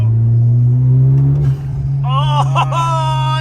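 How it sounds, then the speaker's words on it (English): A 2017 Honda Civic Type R FK8 engine with Stage 1 tuning drones steadily up close, then rises in pitch as it revs, with a whooshing intake roar and whine over the rumble. "it makes all the right noises with the intake"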